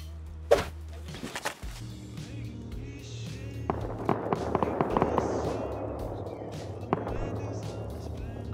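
In the video game Rust, sharp bursts of turret gunfire crack out at intervals, some close and some further off, with a denser rattle in the middle and small impacts between them.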